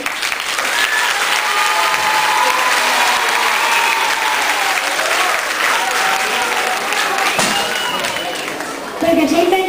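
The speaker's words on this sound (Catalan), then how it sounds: "Per començar, un fort aplaudiment per a la nostra companya Violeta Martí de 6º." A school audience applauds loudly and steadily during a primary-school holiday concert, a dense wash of clapping that fills the whole clip, with brief voices near the end.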